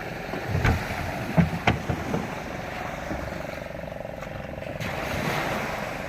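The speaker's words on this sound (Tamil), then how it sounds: "போட்டு ஒன்று போகுது பார்த்தீங்களா? ஃபைபராக வல்லம் இப்போதான் எல்லாம் ஓடி வந்துக்கிட்டு இருக்குது" A fibreglass vallam boat motors past on the sea, its engine a steady humming drone over surf and wind, with a few dull knocks early and faint voices nearby.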